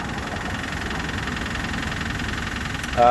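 A Pontiac engine with a bent connecting rod runs loud and close, giving a steady rhythmic knocking clatter over a rough idle. A sharper surge comes right at the end.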